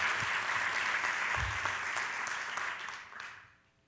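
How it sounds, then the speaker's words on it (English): Audience applause at an education summit, a full steady round of clapping that fades out toward the end. "Let's give them a round of applause as well."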